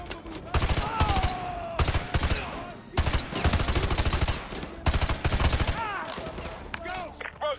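Sustained machine gun bursts in the Call of Duty: Modern Warfare 2 campaign mission Loose Ends, with L-86 and 240 guns firing from a house, loud rapid rattling in repeated long bursts, with voices in the mix.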